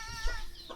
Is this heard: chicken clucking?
yes